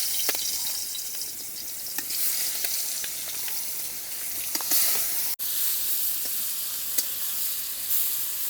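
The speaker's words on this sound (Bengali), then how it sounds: "তেল গরম হয়ে গেছে, এবার চিংড়ি মাছগুলো এক এক করে ভেজে নেব" Prawns fry one by one in hot oil in a wok, giving a steady, close sizzle with crackling pops and a brief break partway through.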